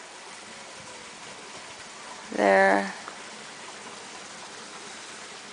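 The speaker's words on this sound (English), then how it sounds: "You can see the little creek goes all the way down" A small creek runs beside a footbridge, giving a steady, soft rushing wash throughout, with a brief spoken word partway through.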